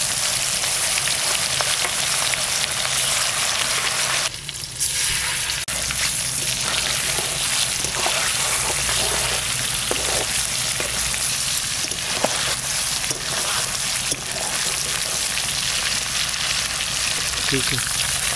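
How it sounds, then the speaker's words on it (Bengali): Snakehead fish sizzles in hot oil in a pan, a steady, close frying crackle and hiss that runs the whole time, with a brief stirring shuffle partway through. "শোল মাছটা ভাজা করব, তেল দিয়ে দিলাম।"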